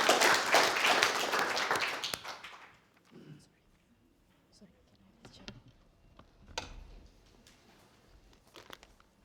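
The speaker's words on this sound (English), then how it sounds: "You could give a huge round of applause." An audience at an innovation fellowship pitch event claps briefly and fairly loudly at the start, dying out within about three seconds, followed by quiet room noise and faint scattered sounds.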